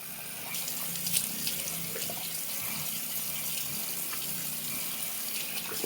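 Steady water running from a tap while hair is rinsed during a sulfate-free wash day, a continuous close hiss with small splashes and drips throughout.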